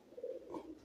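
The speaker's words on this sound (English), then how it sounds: "by pigeons everywhere," Pigeons cooing inside an abandoned church in Scotland, a single soft, faint, low coo phrase lasting under a second.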